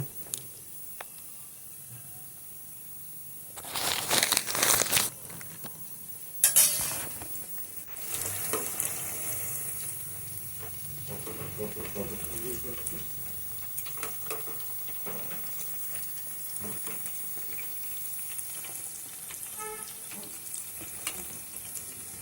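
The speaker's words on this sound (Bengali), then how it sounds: "এবার আমি সিঙ্গারাগুলোকে উল্টে পাল্টে আর একদিকে" Steady sizzling of sweet kheer-filled singaras frying in hot oil, with louder bursts of crackle and stirring early on as they are turned, then a softer continuous bubbling hiss.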